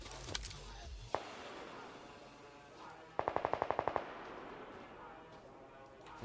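Gunfire in the PUBG Lite video game: a single sharp shot, then a rapid burst of about eight automatic rounds, loud and close against a quiet background hum.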